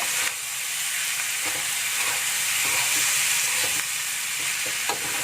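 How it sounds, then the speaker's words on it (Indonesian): Potato and liver sambal with seasoning is stirred in a frying pan, a steady close sizzle and hiss with occasional scrapes of the spatula against the metal, continuing without any talking. "Kita aduk rata lagi."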